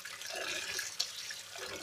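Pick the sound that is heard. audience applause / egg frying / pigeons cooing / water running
water running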